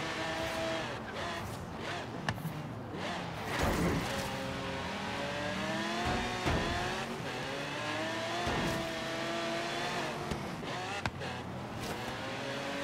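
A race car laps a city circuit in Forza Horizon 3, its engine revving and climbing through gears with repeated shifts and occasional tire squeal, steady and close throughout, with no talk.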